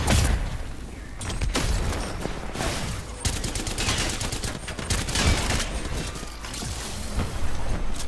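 Sustained rapid gunfire fills an Apex Legends match as the player comes under fire, loud, dense automatic bursts with brief gaps and mechanical clatter, nearly continuous throughout with no talking.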